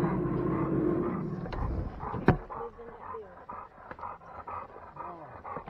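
An old dog makes rough, throaty vocal sounds and panting close by, with sharp bursts over a steady background rumble.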